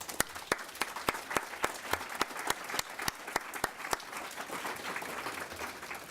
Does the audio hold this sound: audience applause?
yes